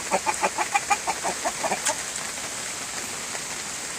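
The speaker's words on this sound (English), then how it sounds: "That's a Rhode Island red rooster." A Rhode Island Red rooster and backyard chickens cluck in quick, rhythmic bursts over the steady patter of falling rain, then the calls thin out and the rain hiss carries on alone.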